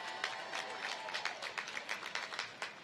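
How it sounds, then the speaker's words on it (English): Commencement ceremony audience applauding for Dionne Warwick, a dense crowd clapping with vertical bursts throughout, steady and moderately distant, with some crowd noise mixed in. "Let's give Ms. Warwick a round of applause."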